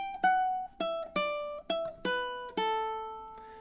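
A fingerstyle ukulele melody picks out single plucked notes in steady time, about seven clear notes ringing and decaying one after another, close and alone.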